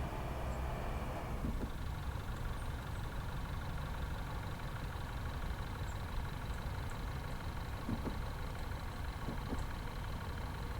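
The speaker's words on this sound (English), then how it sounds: "Does sound a bit clanky still, the engine." A clanky car engine idles steadily in Car Dealer Simulator, a low, even rumble with faint ticks and knocks, fairly quiet and continuous, with no voices.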